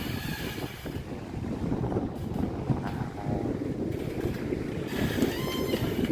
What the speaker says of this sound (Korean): 바람이 많이 불고 있어요.